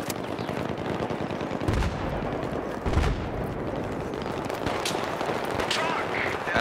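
Sustained gunfire in the multiplayer shooter Battlefield 3 on Operation Métro: dense rattling bursts and heavier booms, loud throughout, with people talking over the shooting.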